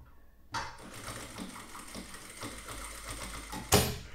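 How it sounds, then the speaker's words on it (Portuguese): Electronic sewing machine stitching fabric, a quiet, steady mechanical whir with faint rhythmic ticking, starting abruptly and ending with a brief louder clack. "Eu vou colocar o tecido. e vamos costurar um pouco aqui."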